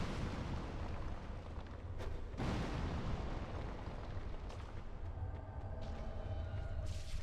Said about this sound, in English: I'm going to use fire bombs to clear these statues